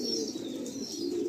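Madrasi pigeons coo softly in a loft, with a female among them. The low, rolling cooing runs continuously and fairly close, with no voices.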